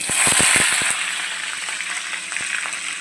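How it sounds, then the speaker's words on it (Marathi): Mustard seeds and cumin tempering in hot oil for a simple home-style potato and cabbage sabzi, with a loud, steady sizzle and a burst of sharp seed pops near the start that thin to occasional crackles. "राई जिऱ्याचा तडका देऊया."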